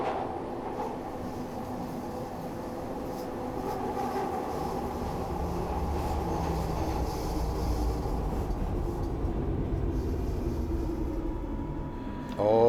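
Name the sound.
Glasgow Subway train running and braking in Train Simulator Classic video game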